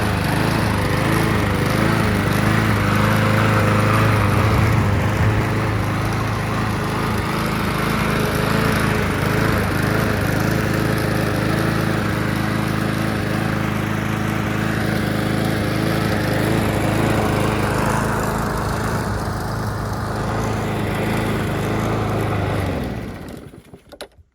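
A Honda GCV lawn mower engine runs steadily at close range, its drone rising and falling slightly as it surges, continuing for about twenty seconds before cutting out abruptly at the end.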